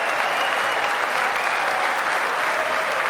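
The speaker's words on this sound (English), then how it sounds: "Why are they all standing and applauding?" A packed congressional gallery breaks into sustained applause, a thick steady roar of many hands clapping at an even level throughout, with no voices standing out.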